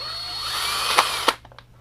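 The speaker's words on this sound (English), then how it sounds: "These screws are long, so I'm already prepared with a drill." A power drill backs long screws out of the battery tray of a Gaui Eclipse E28R model helicopter, a close, steady whirring whine for over a second that cuts off, followed by faint clicks.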